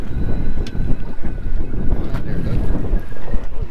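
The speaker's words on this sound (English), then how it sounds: "It is windy." Strong wind buffets the microphone on a small fishing boat off the Florida Keys on a reef fishing trip. The rumble is loud and gusty and continues without a break, with no voices over it.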